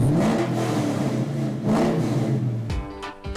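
A V8 engine in an American supercar revs hard in repeated surges, the low throaty roar climbing and falling twice before a quick blip and clatter near the end, loud and close with no voices.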